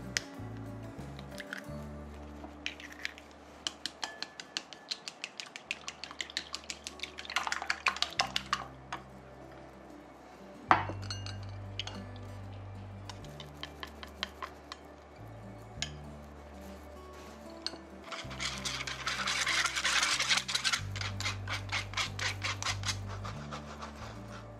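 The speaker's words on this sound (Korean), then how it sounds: "달걀은 그릇에 넣고 젓가락으로 저어낸 뒤 체에 한번 내려주세요." Eggs beaten in a bowl with chopsticks and then pushed through a sieve while making a Spanish omelette, heard as rapid, light clicking and tapping strokes in bursts, with wet squishing and scraping between them, close and fairly quiet.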